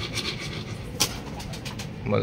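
Pigeons coo and flutter at a club training session in Luisiana, Laguna, a low cooing murmur under outdoor ambience with a brief sharp sound near the middle.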